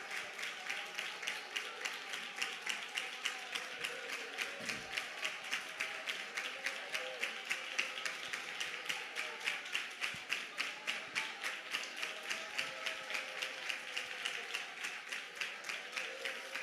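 A congregation claps during a church service, a steady rhythmic clapping in time, fairly fast and even throughout, at moderate distance.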